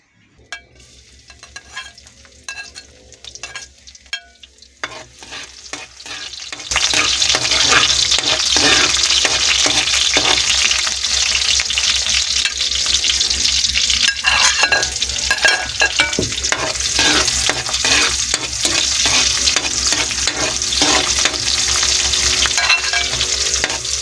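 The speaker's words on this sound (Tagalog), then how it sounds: "Ginisa natin siya sa sibuyas, bawang, at saka luya." Onion, garlic and ginger sautéing with green chili. Quiet, sparse clatter leads into a loud burst when the ingredients hit the hot pan, followed by continuous close sizzling with occasional stirring clicks.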